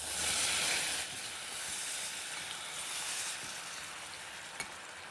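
Steady sizzling hiss as cola-braised pig trotters go into a clay pot, with faint scraping and a soft clack near the end; no voices.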